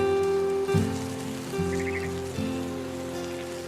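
Steady rain patters on surfaces in a quiet scene from the video game What Remains of Edith Finch, with soft low thumps and a faint tonal hum beneath the even hiss.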